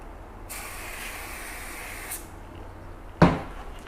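One long hissing burst from a spray bottle of Meguiar's Hybrid paint coating onto a car, lasting about a second and a half, close up, followed by a sharp knock.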